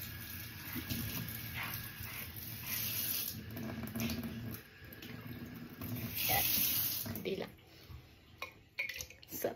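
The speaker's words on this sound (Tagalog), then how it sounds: "At lagyan natin ng tubig." Tap water runs steadily into a container during kitchen prep, a continuous rushing wash with a few brief clinks, under people talking nearby.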